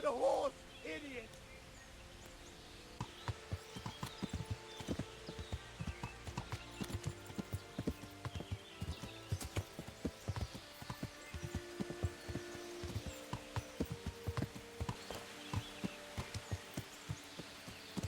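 Horse hooves in Kingdom Come: Deliverance clatter in a fast, steady riding rhythm for most of the stretch, with a brief whinny near the start and game voices in the background.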